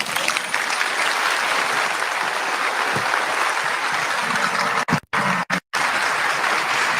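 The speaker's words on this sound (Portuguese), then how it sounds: "A salva de palmas." Loud, sustained audience applause after a spiritist lecture broadcast on radio, dense clapping filling most of the stretch before cutting into abrupt gaps near the end.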